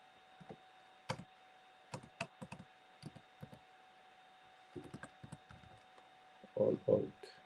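Sparse, soft keystrokes on a computer keyboard come in scattered irregular taps and short bursts as a command is typed, quiet and close, ending with a couple of louder clacks.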